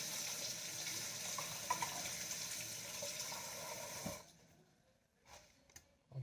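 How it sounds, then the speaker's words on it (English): A kitchen tap runs steadily while a hand is rinsed under it, a close hiss of splashing water for about four seconds before cutting off, followed by a few faint clicks. "I rinse that off my hand."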